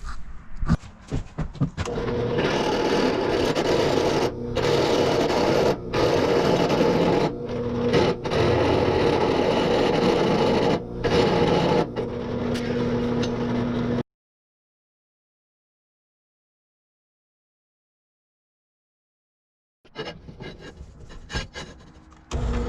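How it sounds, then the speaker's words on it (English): A drill press runs with a steady grinding, rasping sound, continuous with brief pauses, then stops into silence before starting again near the end. "So let's get over to the drill press and see what we can do."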